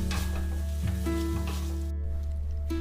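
Kakdi and grapes sizzle steadily in a hot pan, a close, continuous frying hiss with faint stirring scrapes in a North Indian kitchen.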